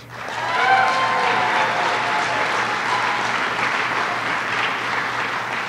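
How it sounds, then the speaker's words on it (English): An audience at a state governor's announcement event breaks into applause that swells quickly and holds at a dense, steady clapping for several seconds, with no speech over it. "Those of you who believe Howard Zemsky is actually funny, please give a round of applause"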